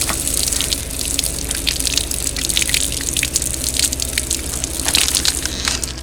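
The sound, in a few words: water spraying from DIY pressurized ABS outdoor shower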